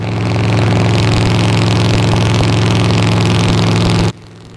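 A Yamaha XVZ 1300 cruiser's V4 engine, derived from the VMAX motor, runs steadily and loud with a deep, throbbing idle and slight revving, then cuts off abruptly near the end.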